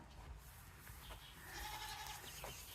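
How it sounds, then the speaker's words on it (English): Nigerian Dwarf Pygmy goats on a family farm, a couple of short bleats rising out of steady outdoor background noise, moderately distant, with no talk. "So Colby got herself a couple new goats."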